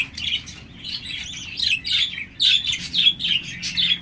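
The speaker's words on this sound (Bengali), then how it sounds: "জাপানিজ বাজরিকার রয়েছে রানিং পেয়ার" Several Japanese budgerigars chirp and twitter rapidly in quick overlapping bursts, close and lively, over a low background hum.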